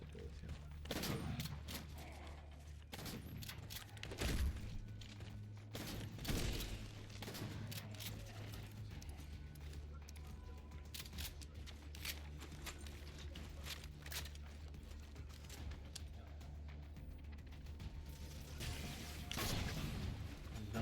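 Gunfire from the Halo video game: rapid volleys and scattered single shots with heavy booms, running steadily over a continuous game soundscape.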